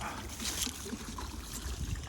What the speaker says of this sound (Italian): qua c'è una bella fonte d'acqua